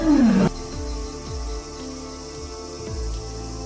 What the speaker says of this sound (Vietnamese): Con đầu đàn của bầy sư tử cảm nhận được nguy hiểm, đứng dậy và gầm lên một tiếng gầm oai nghiêm.